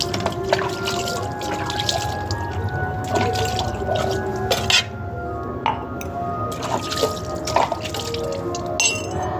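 Something is rinsed with small amounts of water, producing close drips, splashes and soft squelching in irregular bursts, with faint clinks of glass or utensils and a little background voice.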